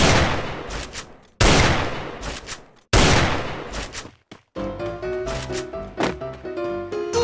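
Rapid bursts of video game gunfire, loud and close, in three dense volleys followed by a choppier stretch of shots mixed with game effects and music.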